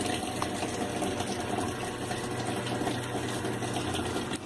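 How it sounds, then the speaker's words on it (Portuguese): Water flowing into a Brastemp Active 11 kg washing machine that has a fault, a steady loud rushing and gushing of incoming water with a constant hum, continuous and unbroken throughout. "E ouvir, né, o barulho também da água entrando, né?"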